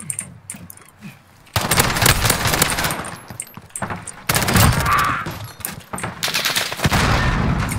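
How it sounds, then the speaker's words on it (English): Bursts of light machine gun fire in an online shooter match, loud sustained rattling volleys in several long stretches separated by short quieter gaps, with brief shouts from players between them. "It's an LMG in there."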